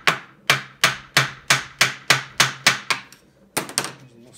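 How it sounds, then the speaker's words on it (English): Small hammer tapping a Honda B series five-speed manual transmission case to break the seal, about a dozen sharp metallic knocks in a steady rhythm, close and distinct, with a brief pause before a final few quicker taps. "just hammer a little bit."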